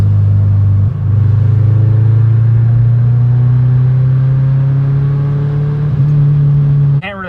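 A car engine fitted with a cold air intake drones loud and close, its pitch climbing steadily as revs rise over several seconds before it cuts off abruptly near the end.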